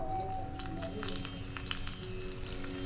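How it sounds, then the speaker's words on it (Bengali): Nigella seeds and a little chilli tempering in hot oil, a close, dense sizzle with crackling bursts over a low steady hum, continuous for a few seconds. "এখানে কালো জিরে ফোড়ন দিচ্ছি, অল্প করে লঙ্কা"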